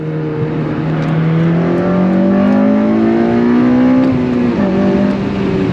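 An 8th-generation Honda Civic Si engine revving up steadily as it accelerates hard, loud and close, pitch climbing over several seconds before a brief shift.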